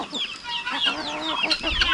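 A farm chicken clucks and squawks in rapid, busy bursts, close and clear, with other fowl chattering around it.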